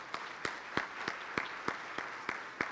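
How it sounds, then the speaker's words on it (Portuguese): An audience at an education seminar forum claps in a steady rhythmic unison beat, sharp hand claps repeating about three times per second over a light background of scattered clapping. "Uma salva de palmas para vocês."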